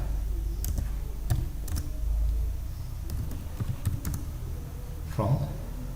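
Computer keyboard typing in bursts of sharp clicks, close but quiet, with pauses between groups of keystrokes.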